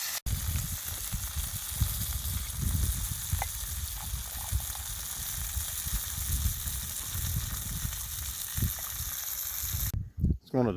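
Fish and foil-wrapped potatoes cooking over an outdoor campfire, a steady close sizzle and crackle with soft pops, with a brief cut near the end.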